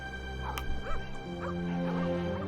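Dogs in The Pale Beyond video game let out a few yips and whimpering whines over a droning musical background, fairly close and moderately loud.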